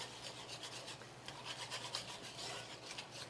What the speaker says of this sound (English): And just whisk that in.